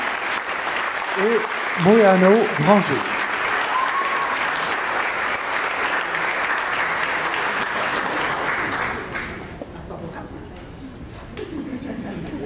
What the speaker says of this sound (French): double applaudissement s'il vous plaît